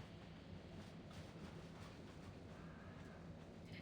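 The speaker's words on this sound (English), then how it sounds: "A train cuts through rolling fields of white snow." A train running through snowy open fields gives a steady, low rumble with faint rail noise, constant and fairly quiet from start to end.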